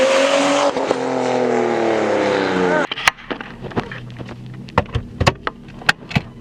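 A Nissan Skyline R32 with a Tomei exhaust drives past, its engine note loud and rising for a few seconds before dropping away abruptly, followed by quieter scattered clicks and knocks.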